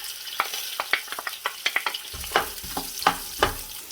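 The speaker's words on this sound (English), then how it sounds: "add in a chopped onion." Chopped onion hits hot oil with bay leaf and curry leaves for fish biryani, giving a close sizzle broken by sharp irregular pops and crackles, loud and alone.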